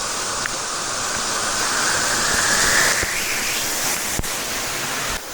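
A waterfall in the Philippines roars as a steady, loud hiss of falling water, close and unbroken for the whole stretch.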